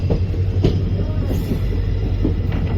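A passenger special train rumbles steadily at Hubballi junction, a loud continuous roll of wagons with periodic clacks and a faint squeal over the heavy low drone.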